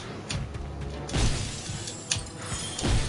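Smashing objects in the video game Knack, with a series of loud crunching, shattering impacts and mechanical clatter repeating every second or so, with no talk.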